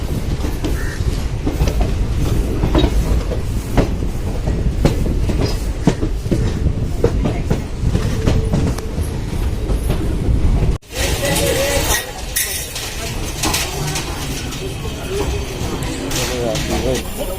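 A Chandigarh Lucknow Express train arrives at Lucknow Junction, with steady loud rolling rumble and rhythmic clickety-clack of wheels over rail joints, then a sudden cut to a quieter, brighter station-side noise, with someone talking.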